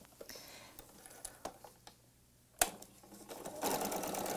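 A sewing machine securing a pillow top's edge with an 1/8 inch seam allowance runs in short bursts, then settles into a steady, louder whir of stitching near the end, with scattered clicks and handling noises before it.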